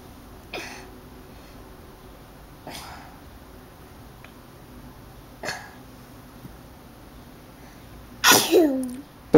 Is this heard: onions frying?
no